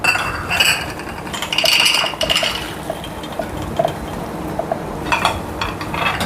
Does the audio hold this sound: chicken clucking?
no